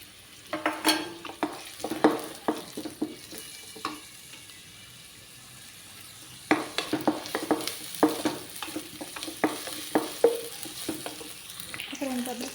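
Chopped onions and green chillies fry in a pan, a steady sizzle broken by frequent scraping and stirring strokes of a spatula, close and clear without speech.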